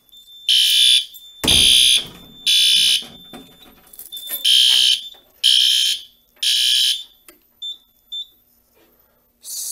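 Simplex 4010 fire alarm system sounding during a test with L-Series notification devices, loud repeated electronic horn-like blasts about once per second, each a steady tone burst, ending in a few short chirps before resuming.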